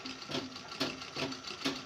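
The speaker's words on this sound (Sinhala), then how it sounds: "මෙන්න මේ ආකාරයට මැදින් මහගෙන යන්න ඕනේ." A sewing machine stitches a 1–2 year old baby frock, its needle running in a fast, steady rhythmic whir with regular pulses, close and clear with no voices.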